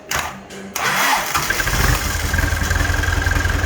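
A large diesel tractor engine cranks and catches, then settles into a loud, rumbling idle with a steady throbbing rhythm.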